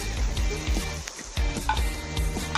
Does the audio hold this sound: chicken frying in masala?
yes